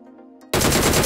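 A DP-28 machine gun firing in BGMI, bursting in abruptly after a short quiet stretch as a loud, rapid, continuous stream of shots, close and dominant.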